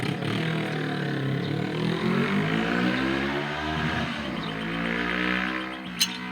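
A motorcycle engine revs and drones steadily close by, its pitch rising and falling, with a short sharp click near the end.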